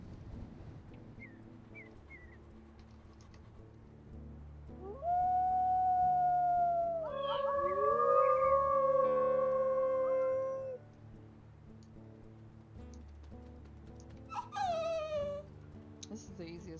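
A wolf pup in WolfQuest lets out a drawn-out, rising and falling whine, then a second shorter whimper, fairly loud over a quiet ambient game background.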